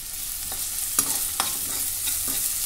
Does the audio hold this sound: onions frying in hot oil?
yes